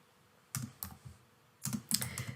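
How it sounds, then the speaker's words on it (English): Short bursts of typing on a computer keyboard, a few quick clusters of close key clicks separated by brief pauses in a quiet room. "I'm going to type my instructions."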